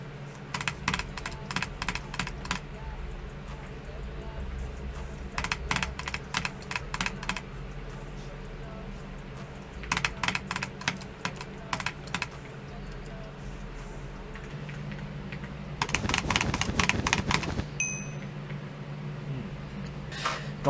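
Fast mouse clicking comes in quick bursts of rapid, crisp clicks separated by short pauses, over a steady low background hum. It is close and fairly faint, with one denser, louder burst near the end.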